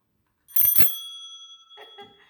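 A bicycle bell gives two quick bright rings close up, then a fainter, shorter ring after a brief pause, with no talking.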